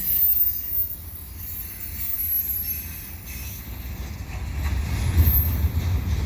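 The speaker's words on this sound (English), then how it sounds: "I've got this eastbound CN train at around 5:30 p.m. on the Monday afternoon" An eastbound CN freight train carrying an unusual trackwork load rumbles past near Montreal in the late afternoon, a steady low roar of wheels on rails with faint high squeals, swelling slightly near the end.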